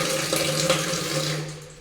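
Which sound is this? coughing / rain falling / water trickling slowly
water trickling slowly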